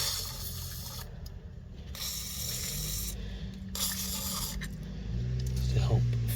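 Aerosol can of WD-40 sprayed onto a rear suspension top mount of a Ford Puma Mk1, several close hissing bursts of about a second each under steady background noise.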